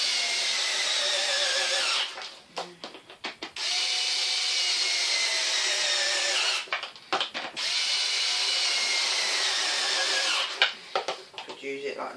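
A power screwdriver is used to take apart a 2014 Numatic James vacuum, whirring in three long steady high-pitched bursts, close and loud, with brief handling clicks and a voice between runs.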